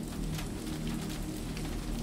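Rain falling steadily outside a houseboat, a soft continuous hiss with faint low rumble, quiet and even throughout.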